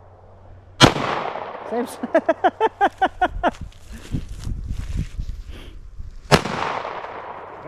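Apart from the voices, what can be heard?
PSA 5.7 Rock pistol gunshots at target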